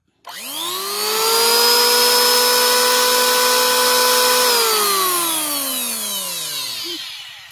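A MASAKI 870-watt electric hand planer with a 3-inch, two-blade head runs free, spinning up to a loud steady high-pitched whine, holding for several seconds, then winding down as it coasts to a stop.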